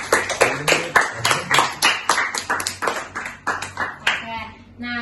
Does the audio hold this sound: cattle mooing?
no